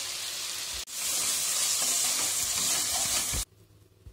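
Prawns fry in hot oil with masala of ground cloves, cardamom, cinnamon and turmeric, a loud, dense sizzle that surges after a brief break and then cuts off sharply.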